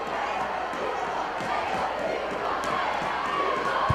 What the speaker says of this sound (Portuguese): A torcida chamando o Juninho de pipoqueiro aqui no Independência.